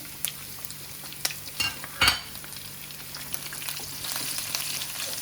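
Small chopped garlic frying in a pan with browning chicken for chicken manchurian, a soft steady sizzle with occasional clinks and scrapes of a utensil stirring, fairly faint, with no talk.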